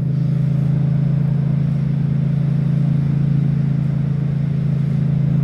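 A Yamaha MT07 motorcycle is ridden at a steady pace, its engine holding a constant, loud drone with a low hum throughout and no obvious revving or gear changes.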